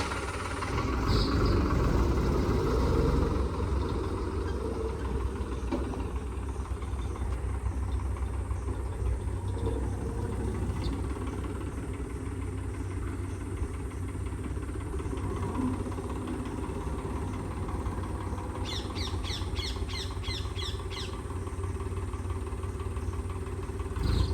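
A 2018 Holland tractor engine runs steadily at idle, a continuous low rumbling chug with a light mechanical clatter, fairly close, and a brief rattling burst near the end.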